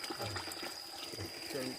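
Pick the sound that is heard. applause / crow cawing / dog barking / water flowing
water flowing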